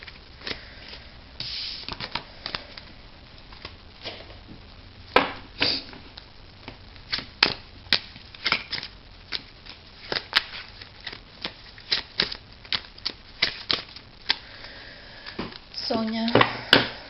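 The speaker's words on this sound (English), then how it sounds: "It will take some time to shuffle the cards because I can't shuffle them very easily." A deck of cards shuffled slowly and with some difficulty for a private reading: irregular riffles and taps, close and fairly quiet, with a longer flurry of shuffling at the end.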